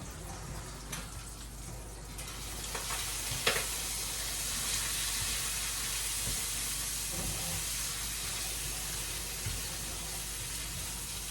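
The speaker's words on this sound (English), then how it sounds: "I'm gonna go stir that bacon" Bacon fries in a pan with a constant loud sizzle and hiss, broken by a few scraping stirs from a fork at close range.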